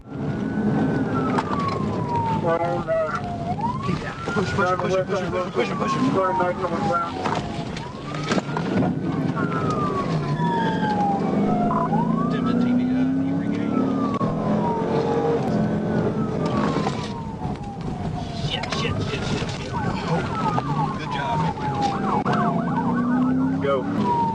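Wailing police car sirens rise and fall repeatedly, loud and close, over rushing traffic noise during a high-speed chase, with a second siren overlapping at times.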